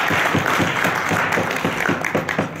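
Audience members at the US-Uganda International Trade Summit clap together in a moderate, steady round of applause, individual claps faintly distinct within the crowd noise.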